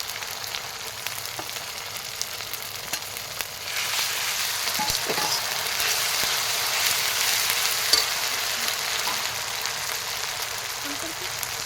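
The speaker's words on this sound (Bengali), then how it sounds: "এখন জিরে বাটা, শুকনো লঙ্কা, কাঁচা লঙ্কা পেস্ট বাটা দিয়ে দিলাম।" Cumin paste, dried red chilli and green chilli paste fry in hot oil, a steady sizzle that swells louder after a few seconds and holds as a bright continuous hiss to the end, with no talk.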